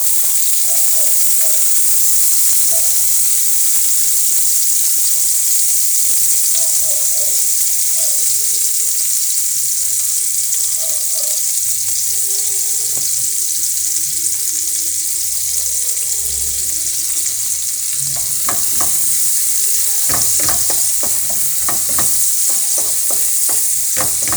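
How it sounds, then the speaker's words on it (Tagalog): Onion leeks fry in leftover cooking oil in a pot, making a loud, steady sizzle throughout, with quick utensil scrapes and clatter near the end. "Yung mantika, dyan pa rin yan. Yan ang gagamitin. So, lagay na natin tong onion leeks."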